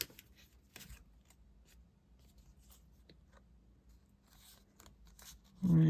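Scissors snip through patterned paper for a Stampin' Up! card in a few quiet, close cuts and light rustles, ending in a sudden louder burst.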